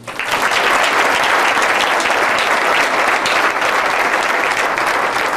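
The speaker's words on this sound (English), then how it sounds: "If you hold your applause to the end of these, please" Dense, steady applause fills a room at a high school football awards banquet, loud and unbroken as many hands clap together throughout.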